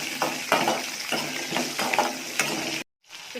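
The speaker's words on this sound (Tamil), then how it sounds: "சின்ன வெங்காயம், வரமிளகா நல்லா வதக்கிக்கலாம்." Shallots and dried red chillies sautéing in a pan for manathakkali keerai poriyal, with a crackling sizzle and several sharp scraping strokes of a spatula before a sudden cut to near silence.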